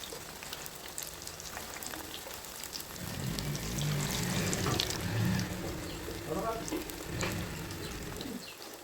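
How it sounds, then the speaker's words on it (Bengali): Pieces of fish dropped one at a time into hot oil for deep frying, a soft background hiss swelling into a louder bubbling sizzle partway through, then settling into steady crackling. "এই গরম তেলের মধ্যে একটা একটা করে মাছ ছেড়ে দিতে হবে"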